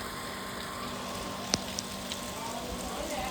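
Steady, even hiss of heavy rain pouring down in Wadhwan city, with a few sharp drip clicks standing out; no voices.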